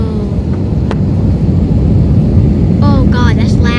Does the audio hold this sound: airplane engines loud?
yes